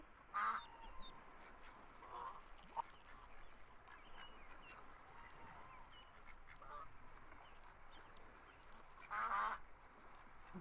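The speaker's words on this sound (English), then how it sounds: "Ducks. Quack." Ducks quack in the video game VRChat, with a few scattered honking calls spaced across the stretch, some louder bursts near the start and end, fairly faint overall over low background noise.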